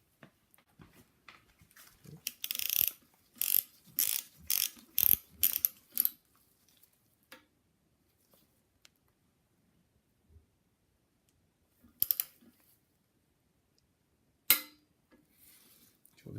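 A torque wrench tightening the main bearing bolts on a BMW N54 engine during a rebuild, a run of crisp, close ratcheting clicks in bursts, then long quiet with a couple of isolated clicks, no talking.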